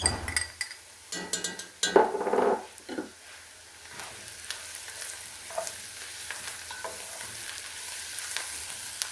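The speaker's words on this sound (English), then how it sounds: "now we're going to add our garlic to this. And of course, you're going to cook this until it's nice and fragrant" Garlic sautéing in a pot for broccoli cheddar soup, several bursts of stirring and clinking at first, then a steady soft sizzle carrying on alone.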